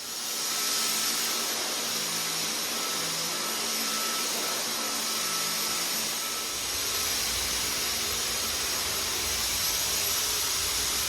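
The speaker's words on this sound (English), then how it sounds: "now I'm going to vacuum it out" A vacuum cleaner runs steadily up close on a baking-soda-treated carpet, a loud continuous roaring whine with a bright high-pitched hiss that barely changes throughout.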